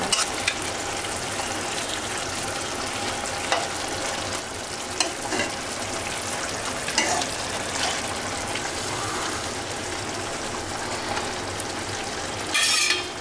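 Malabar spinach stalks frying in oil after tempering with spices, a steady sizzle with occasional stirring scrapes and a louder hiss near the end.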